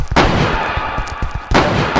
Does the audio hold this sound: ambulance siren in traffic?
no